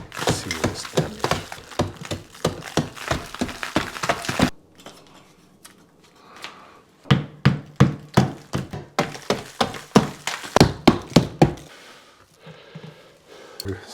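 Chisel struck with a hammer into a delicate, non-solid wall, giving sharp rhythmic blows in two bursts with a quiet pause between, loud and close with no talk.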